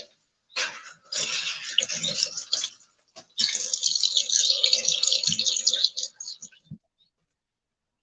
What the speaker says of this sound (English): I'm just going to rinse that a little bit before I even put that in the stock pot.